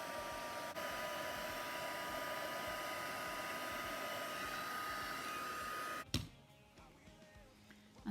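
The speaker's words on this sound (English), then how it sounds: "Now I'm going to be using my heat tool." A handheld heat tool melts gold embossing powder on a floral birthday card, a steady close-up blowing roar for about six seconds that then cuts off abruptly, leaving quiet room tone.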